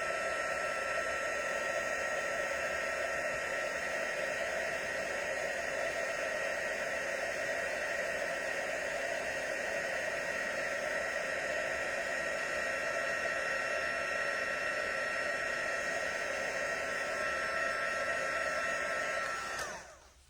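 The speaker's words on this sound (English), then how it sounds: "So I'm just going to heat emboss this." Heat gun blowing steadily while heat embossing a stamped card, a continuous loud whirring hiss that holds for about twenty seconds before cutting off abruptly at the end.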